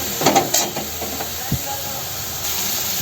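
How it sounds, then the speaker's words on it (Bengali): A light sizzle of something frying in hot oil, a steady soft hiss throughout with a few clicks and a voice speaking over it. "হালকা একটু ফ্রাই হয়ে যাক"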